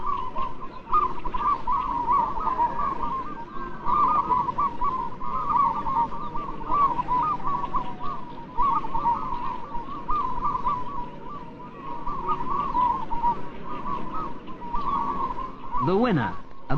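Male perkutut zebra doves sing at a song contest, hoisted aloft on poles, their continuous cooing trills layered into a steady chorus, with a narrator talking over them.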